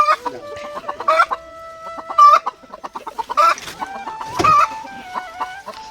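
Hens and roosters on a home poultry farm cluck and squawk in repeated bursts, fairly close, with several overlapping birds and occasional sharper calls.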